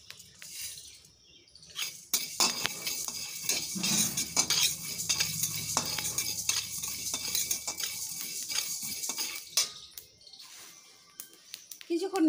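Fenugreek and fennel seeds fry in a pan as a metal spoon stirs and scrapes them, making repeated close clinks and scrapes over a soft sizzle, with no talk.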